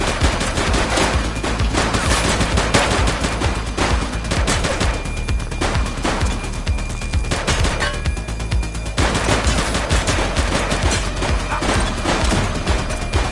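Sustained video-game gunfire during a police shootout, dense bursts of automatic and rapid shots hammering almost without pause, loud and close throughout.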